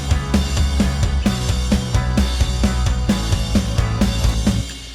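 Unprocessed DI electric guitar tracks play a song as a driving, evenly pulsed rhythm part with sharp repeated attacks. It sounds dry and up front, then cuts off just before the end.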